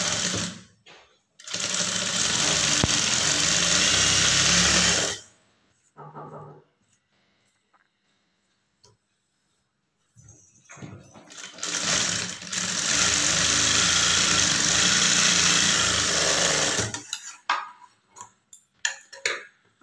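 Blouse lining is stitched on a sewing machine in two long, steady whirring bursts, separated by a pause filled with softer clicks and handling.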